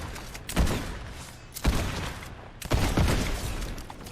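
Explosive repeater rifle shots in a video game ring out as three loud, booming blasts spaced about a second apart, each with a sharp crack and rumbling tail.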